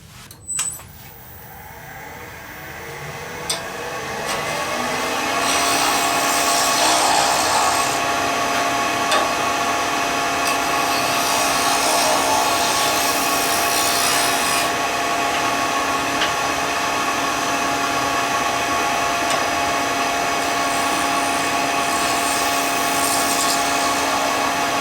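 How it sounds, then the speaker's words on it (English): Skew chisel taking a clean final cut on a wooden pen blank spinning on a lathe, a steady humming motor with a continuous hissing shave that swells after a few seconds and holds throughout, close and alone. "now I can go over with the skew and get a nice clean final cut."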